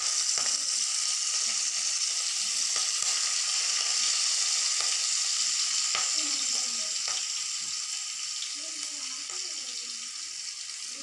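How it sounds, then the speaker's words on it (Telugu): Two finely chopped green chillies crackle and sizzle steadily in hot oil with cumin and mustard seeds, a dense close frying hiss with small pops, fading slightly toward the end. "ఇప్పుడు దీంట్లోకి సన్నగా చాప్ చేసి పెట్టుకున్న 2 మిరపకాయలని యాడ్ చేసుకుందాం."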